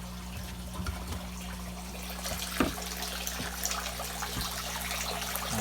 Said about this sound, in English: keeps all the debris and the poop and everything below it, and then it drains from here. That goes into the sump tank